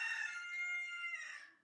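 A rooster crows once, close and loud, a long bright harmonic call held for over a second before tailing off.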